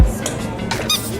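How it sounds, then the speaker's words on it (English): A small squeaky toy being worked, with a couple of short bright squeaks near the end over a busy background of murmuring people. "Squeak."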